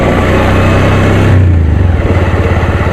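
A motorcycle engine idles loud and close while the bike is parked at the roadside on a trip in Karbi Anglong, its rumble settling into an even, pulsing chug partway through.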